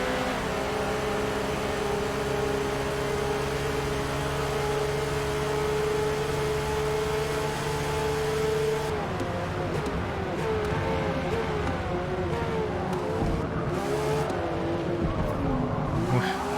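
A Ford GT40 race car in Forza Motorsport at Le Mans, its engine droning steadily and loud up close, with a long sustained note shifting into a warbling pitch as the tires scrub through corners near the end.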